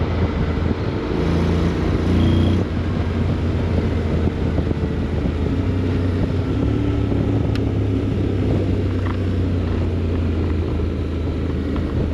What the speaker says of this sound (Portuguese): Tem um barulho porreiro, um escape.